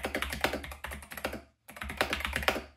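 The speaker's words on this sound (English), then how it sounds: "I really like how these keys look, feel, and more importantly," Brisk typing on an 8BitDo C64 keyboard with Kailh Box switches, close and crisp clacking keystrokes in quick bursts, with a short pause midway before typing resumes.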